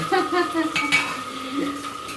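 A spoon scrapes and stirs drumsticks, potato and eggplant frying in a pan with mustard-poppy paste, with close metallic clinks over a soft, continuous sizzle.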